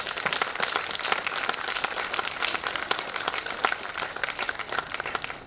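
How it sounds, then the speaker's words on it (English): An audience at a school's annual function and silver jubilee celebration applauds its teachers, dense sustained clapping from a large crowd, loud and continuous throughout. "So a huge round of applause for yourself."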